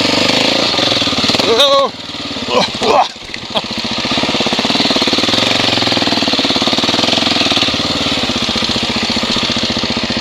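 A 2017 Husqvarna 701 Enduro climbing a rock, its single-cylinder engine pulsing loud and close in a rapid thumping beat, briefly dipping and revving before settling into a steady hard-working drone; a rider exclaims once.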